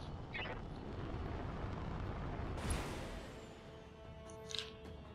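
Mech jump shots firing in the BattleTech video game, a steady roaring rumble with a sharp burst midway and a brief crackle near the end, faint and continuous.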